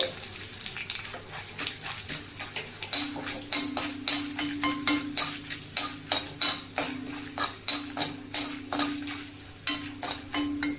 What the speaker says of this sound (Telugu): ఒక స్పూన్ పచ్చిశనగపప్పు ఒక స్పూన్ మిరపప్పు తుంచిన రెండు ఎండుమిరపకాయలు వేసి దోరగా వేయించాలండి